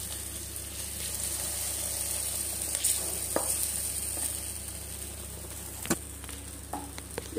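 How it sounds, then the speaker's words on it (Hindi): Tadka is poured into cooked khichdi and sets off a faint, steady sizzle under a constant low hum, with occasional scrapes and taps of a spoon against the pot. "अब इसमें मैं तड़के को डालूंगी।"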